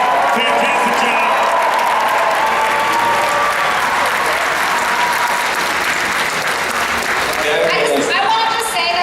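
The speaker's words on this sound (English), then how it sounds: "Big round of applause, everybody" Loud, sustained audience applause with cheering at a cosplay championship, a dense wall of clapping filling the hall for the full stretch with no break.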